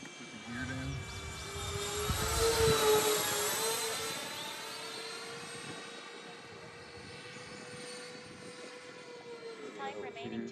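A Freewing F-14 Tomcat twin 80mm RC jet on landing approach with gear down, its ducted-fan whine loud and steady, swelling as it passes overhead and then fading while it continues at a distance.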